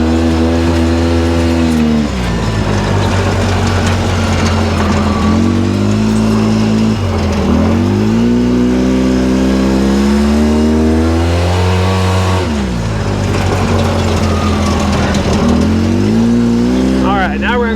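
A Polaris RZR 800S off-road vehicle revs hard and loud while spinning, its engine pitch sweeping up and down in repeated surges, close and continuous.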